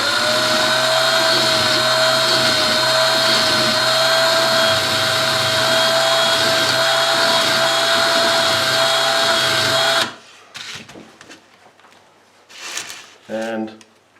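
A rivet spun in a drill while being filed round gives a loud, steady whining hum with a sustained tone for about ten seconds, then stops abruptly, leaving faint handling clatter and brief bursts of noise.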